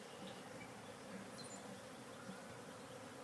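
Bees buzz around a hive box in a faint, even drone that holds steady throughout, with no speech.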